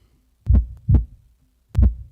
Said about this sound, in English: I gotta do the heartbeat for him.